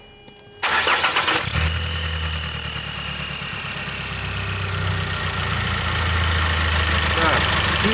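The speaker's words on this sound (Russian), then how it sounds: "Заводим двигатель и смотрим, что же свистит." A car engine cranks briefly, catches and settles into a steady idle, with a high whine over the rumble for a few seconds.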